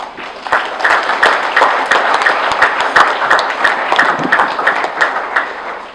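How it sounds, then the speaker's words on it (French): A crowd at a political campaign speech claps loudly and steadily, a thick patter of many hands with a few sharper, nearer claps standing out. "Ces compatriotes méritent vos applaudissements."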